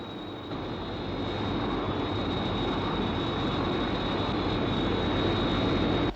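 The Sky 1 aircraft in flight, a steady, loud, broad engine roar with a thin high whine running through it, holding evenly throughout before cutting off abruptly.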